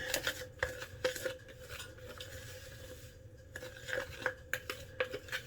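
A spoon stirs stevia into cornbread batter in a bowl, making repeated close clinks and scrapes against the bowl in an irregular rhythm, with no talking.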